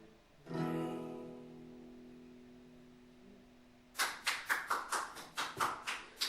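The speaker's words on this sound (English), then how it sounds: "Who the fuck is applauding that?" Applause arrives as a run of about ten sharp, evenly spaced claps after a sustained tonal note fades out, close and fairly crisp.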